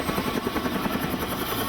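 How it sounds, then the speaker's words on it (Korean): A helicopter on a sightseeing tour over the mountains near Aoraki, New Zealand, gives a steady loud rotor thump and engine drone throughout, heard from inside or close by with no talk. "시작된 헬리 투어는 나를 흥분시켰다"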